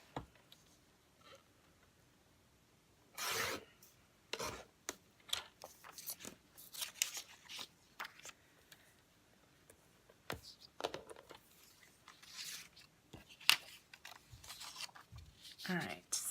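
Scissors cut paper pieces for a DIY Christmas planner in a series of short, crisp snips and rustles at irregular intervals, close and fairly quiet, between stretches of near silence.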